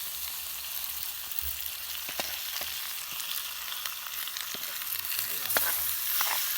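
Dried game meat frying with a pounded ginger and garlic mixture, a soft continuous sizzle with occasional scraping stirs and light utensil taps, fairly quiet and without speech.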